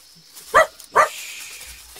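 Milou, the white fox terrier from a Tintin cartoon, gives two short, sharp barks about half a second apart, close and clear over a quiet background.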